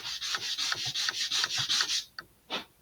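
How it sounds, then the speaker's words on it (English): Sanding a laser-cut part for an Estes DARC 1 model rocket kit, heard as close, rhythmic back-and-forth rasping strokes, about a dozen in quick succession, followed by a couple of slower, separate rubs. "That's better, but let's sand a little bit more."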